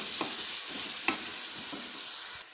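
Thick-cut pumpkin pieces stirred in a pan with a steady hiss of frying underneath, spoon scrapes landing every half second or so in an even rhythm, close and fairly quiet, no talking.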